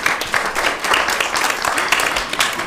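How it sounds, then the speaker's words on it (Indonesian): Audience clapping at a class drama festival, a steady wash of applause from a crowd filling the short stretch at an even level. "Di sini ya boleh tepuk tangan"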